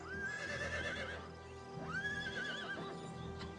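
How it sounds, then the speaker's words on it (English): A wolf unit in a Lord of the Rings mod for Total War: Attila gives off horse-like whinnies, two rising neighs in quick succession over a steady battlefield hum, fairly close. "Is the wolf making horse noises?"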